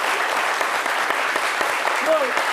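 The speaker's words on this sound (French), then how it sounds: "j'aimerais que tout le monde t'applaudisse pour ce que tu as fait de beau aujourd'hui" A studio audience on a French midday show gives steady, dense applause that continues evenly through the whole short stretch, with a faint voice rising briefly near the end.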